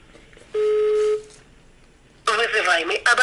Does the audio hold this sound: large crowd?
no